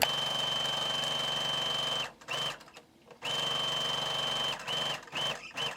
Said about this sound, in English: now I'm just gonna sew all this together.